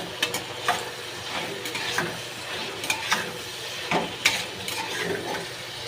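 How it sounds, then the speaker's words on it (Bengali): Tomatoes frying in a pan for chicken liver curry, a soft sizzle with several sharp scraping stirs at irregular intervals, fairly quiet and close, with no voices. "এবার আমি টমেটোগুলো দিয়ে দেব।"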